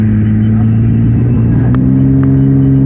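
A Cadillac CTS coupe engine revs while driving, heard from inside the car as a loud, close, droning rumble that rises slightly in pitch over a few seconds.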